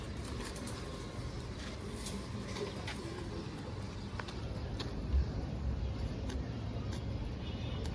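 Army breed pigeons coo softly amid a steady wash of outdoor noise with traffic in the background, the low calls blending into the constant hiss.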